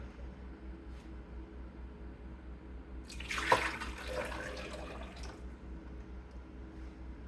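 Strained tomato liquid poured from a ladle back into a cooking pot, a short splashing pour swelling near the middle and tapering off over a steady low hum.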